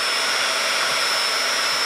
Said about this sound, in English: just dry it with your dryer